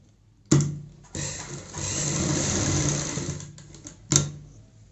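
A sewing machine stitches a baby frock in two bursts, a short start then a steady multi-second run, ending with a sharp clack. It is close and loud, with no talk.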